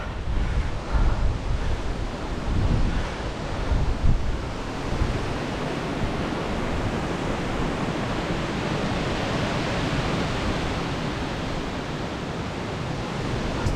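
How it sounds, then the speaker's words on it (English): Strong wind roars across the microphone during a bike ride, with loud continuous buffeting that gusts harder at first, then settles into a steady rushing noise. "You might be able to see from these trees, it's pretty windy."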